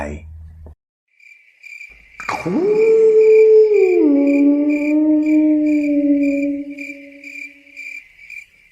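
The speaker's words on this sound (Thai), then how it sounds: "สุนัขตัวสีดำหน้าร้าน หอนอย่างหน้าขนลุก" A black dog howls eerily at night outside a convenience store, one long rising then sagging wail over a steady chirping cricket background, loud and close, trailing off at the end.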